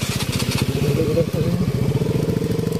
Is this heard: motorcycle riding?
yes